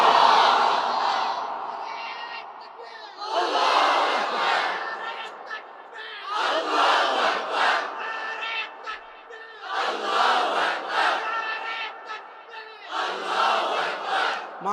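A large crowd outdoors chants slogans loudly in call-and-response waves, five strong surges of massed voices separated by brief lulls, ringing and powerful.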